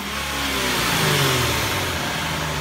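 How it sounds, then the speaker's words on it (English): Another rev of a car engine breathing through a Stillen cold air intake: a loud, sustained roar that swells and holds steady for a couple of seconds, close by and without voices. "Go ahead, rev it up again."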